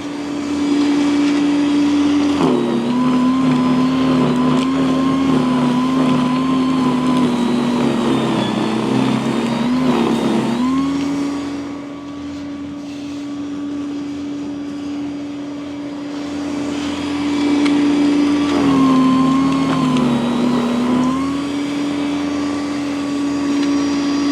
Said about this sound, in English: This is an amazing little snowblower.